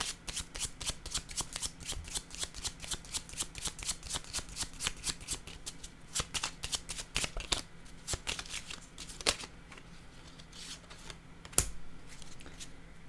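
Tarot cards being shuffled and handled on a table, a rapid series of crisp riffling slaps and flicks, close and steady, easing into a few sparse card taps near the end.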